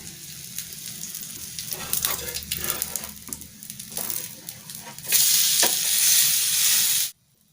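A cheese bread omelet sizzles steadily in a frying pan, with bursts of spatula scraping and stirring, then a louder, brighter frying hiss near the end before it cuts off.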